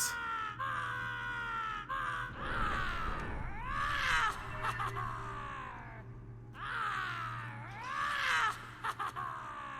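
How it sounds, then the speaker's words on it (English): A character in the video game Fable II performs the Bloodthirsty Roar expression, letting out long, strained, wavering yowls that come in two drawn-out bursts separated by a brief lull. A steady low hum runs underneath. "we're going to go with the Bloodthirsty Roar, which makes you sound like an idiot"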